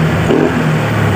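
Honda Vario 125 scooter engine revved up, a brief close loud whirring drone holding a steady high RPM.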